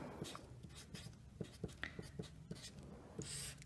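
A pen or marker scratches out an equation in short quiet strokes, with soft taps between them and no talking.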